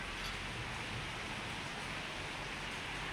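Heavy rain pours down as a steady, dense, unbroken hiss, fairly quiet and even throughout with no voices.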